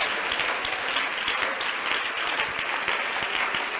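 Church congregation applauds during a Spanish-language sermon, a full, sustained round of clapping from many people, loud and steady from start to finish without speech.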